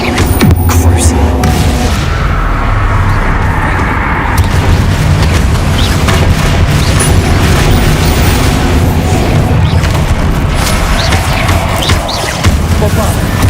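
Bombarda explosion spell going off in Hogwarts Legacy amid continuous loud spell combat, heavy booms and bursts layered over a dense, unbroken roar of battle effects, with a voice speaking over it.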